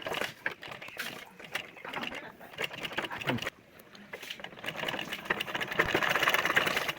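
A sewing machine stitches a neckline design on fabric in rapid bursts with brief pauses, close and moderately loud, with some background noise between runs.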